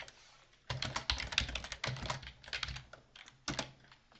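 Quick, quiet clatter of typing on a computer keyboard, with irregular bursts of key presses and a few brief pauses, heard alone at close range.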